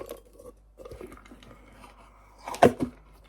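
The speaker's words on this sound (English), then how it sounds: "should we do a little ASMR demoulding? Because it sounds fantastic." A freshly made pot eased out of its mould, giving a short burst of crunchy, crackling release near the end after soft scattered handling noises, close and fairly quiet.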